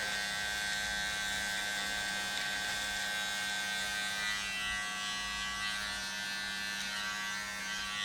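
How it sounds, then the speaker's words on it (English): A cordless mini clipper buzzes steadily and loudly while lining off the cheek edges of a beard, its close electric whine unbroken throughout with no talking. "Great little mini clipper. Just line these cheeks off."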